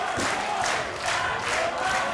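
A wrestling arena crowd at a World Series Wrestling tag team championship match roars and cheers continuously, a loud, dense wall of voices with rising swells and shouts throughout.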